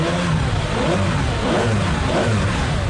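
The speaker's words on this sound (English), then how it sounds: "Because to listen to that V12 in the back" Ferrari Enzo V12 engine revving hard and steadily, a loud, dense roar that holds for the whole stretch with slight rises and falls in pitch, heard up close with no talking.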